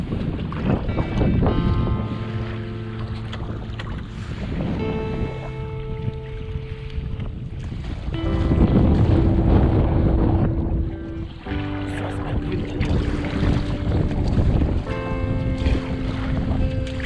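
Wind gusting across Hennesee lake during a February kayak trip, buffeting the microphone with loud low roaring bursts, alongside tonal whistling and droning layers that rise and fall throughout.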